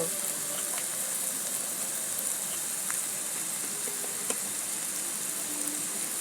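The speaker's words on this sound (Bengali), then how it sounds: "এরপরে আমি এতেই মশলা দেবো দিয়ে ভালো করে ফ্রাই করব" Tomato, green chilli and spices frying in oil for egg tadka, giving a dense, continuous hiss and sizzle with a few small clinks from stirring.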